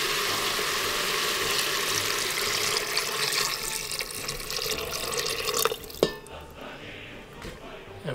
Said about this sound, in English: So let's pour a little bit of this broth back in here.